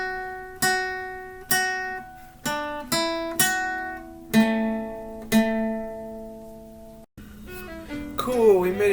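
Solo guitar plays the second phrase of the folk song The Parting Glass, a series of clear plucked notes each ringing out and decaying, with a short pause near the end before a few final strums.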